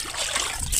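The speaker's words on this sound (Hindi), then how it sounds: "देखिए ड्रम का पानी यहाँ से डायरेक्ट वहाँ से पानी आता है।" Water running straight from a drum onto rock at an outdoor washing spot, a brief steady close trickling stream heard alone.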